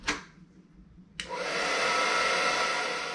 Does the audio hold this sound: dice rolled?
no